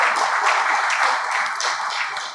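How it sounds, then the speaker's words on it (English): Applause from the audience at a national poultry veterinary symposium panel discussion, a steady wash of clapping from many people sustained for a couple of seconds, fairly loud and slightly distant in a hall. "So clap for yourself."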